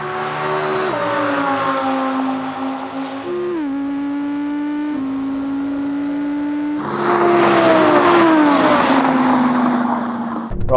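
Several generations of Audi R8 in a drag race, engines howling as they accelerate hard with rising pitch steps at each gear change, a second loud car surging in later, close and continuous.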